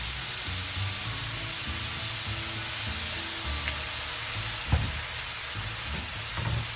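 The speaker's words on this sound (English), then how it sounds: "Now while you are frying well, you can feel the smell is good." Steady broadband sizzle of turnips frying in a hot pan for spring roll filling, with occasional clinks and stirring sounds on top, no voices.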